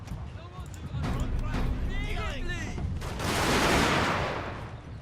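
Rifle volleys and artillery fire crackle in a Fall of the Samurai battle, with a dense rattle of gunfire and booms that swell louder toward the end. Voices talk over the first half.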